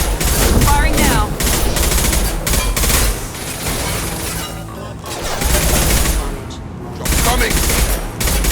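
Sustained loud video game gunfire in Mass Effect 2, dense automatic fusillades with booming impacts, breaking briefly before resuming, with voices calling out in between.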